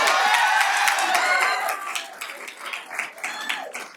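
An audience at a Black History Month celebration breaks into loud, close applause mixed with cheering, strong at first and then thinning into scattered claps as the noise fades.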